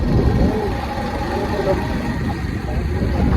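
A motorbike engine idles steadily up close, a continuous low rumble that holds even and unbroken through the whole stretch with no talk over it.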